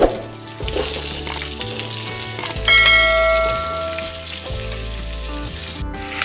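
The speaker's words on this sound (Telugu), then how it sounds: "ఒక ఐదు నిమిషాల దాకా బాగా ఫ్రై చేసుకోవాలి" Cut radish frying in a tempering of dried red chillies, spices, onion and asafoetida for sambar, a loud continuous sizzle with stirring scrapes and a few bright metallic rings, no talk.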